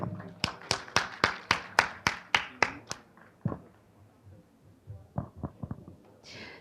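A burst of applause for distinguished professors at an award ceremony, with roughly ten sharp, evenly spaced claps followed by a few scattered, fading ones.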